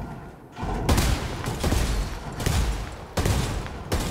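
Repeated heavy booms of incoming mortar rounds in Ghost Recon Wildlands, several broadband blasts landing close and loud with rumbling tails between impacts.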